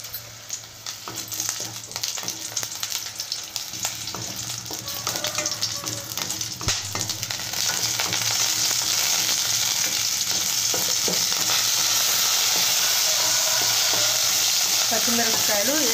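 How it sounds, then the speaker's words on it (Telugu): Green chillies fry in a little oil in a kadai for mint chutney, a busy continuous sizzle with stirring scrapes that grows louder and steadier toward the end, with no voices. "పచ్చిమిరపకాయలు వేగినాయండి."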